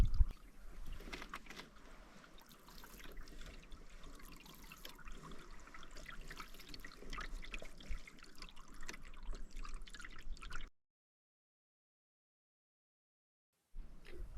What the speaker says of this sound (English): we paddle quietly past Sites 6 and 7